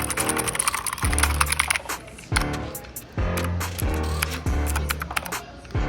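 Keychron K2 mechanical keyboard being typed on, its switches clacking in quick dense bursts with short pauses between runs, close and fairly loud, no voices.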